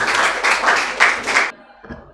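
A classroom group claps hands in a dense burst of applause for about a second and a half, then breaks off into near silence, with a few scattered claps closing it out.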